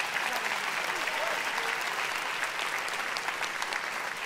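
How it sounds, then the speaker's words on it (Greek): Sustained concert audience applause at a Panik 10th anniversary show, dense steady clapping filling the hall from start to finish with no talk over it. "Ένα υπέροχο χειροκρότημα, σας παρακαλώ"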